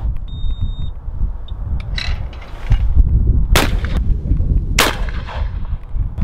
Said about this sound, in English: I'm going to start off shooting a bit of sport trap with the standard, unaltered, unplayed with 951, fresh out the box